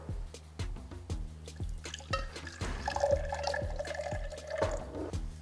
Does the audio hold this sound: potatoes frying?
no